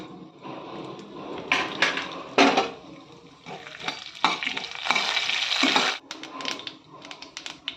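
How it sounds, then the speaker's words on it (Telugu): Chana dal, urad dal and mustard seeds sizzle and crackle in two spoons of hot oil for a tempering, with loud bursts of frying and the scraping of a stirring spoon, close up and without talk. "ఇందులో 2 స్పూన్ల ఆయిల్ వేద్దాం పోపు వేయించడానికి. 1 స్పూన్ శనగపప్పు, స్పూన్ మినప్పప్పు, 1 స్పూన్ ఆవాలు"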